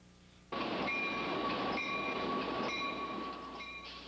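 An eastbound passenger train on rails at Moose Jaw, Saskatchewan, starts with a sudden loud onset and keeps up a steady rumble. Sustained high horn-like tones sound in repeated stretches, and the noise eases slightly at the end.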